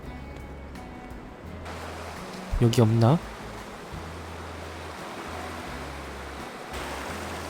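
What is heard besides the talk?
strong sea waves crashing on rocky shore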